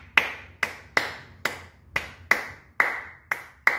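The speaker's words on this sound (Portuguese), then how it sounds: "a coisa característica da roda de samba, que são essas palmas" Samba circle hand clapping from an original recording, sharp single claps struck in a steady syncopated pattern, about eight crisp hits with short ringing tails over a faint musical background.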